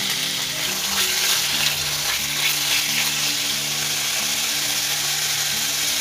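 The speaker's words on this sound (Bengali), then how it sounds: "প্রথমে চিকেনটা আর পাকচয়টা একটু সটে করব" Chopped chicken sautéing with minced garlic in a pan, a loud, dense, continuous frying sizzle that holds steady throughout with no talking.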